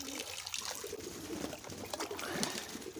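Water poured over pigeons bathing in a loft, a steady splashing trickle with pigeons cooing and fluttering throughout, close and fairly loud.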